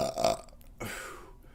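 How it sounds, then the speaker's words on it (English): One close, loud burp from a person during a quiet livestream, rolling out in two throaty pulses with no talk around it. "Burp."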